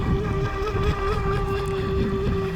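VolantexRC Atomic XS RC boat running on water outdoors: a steady high-pitched electric motor whine over wind noise and water wash, moderately distant and continuous.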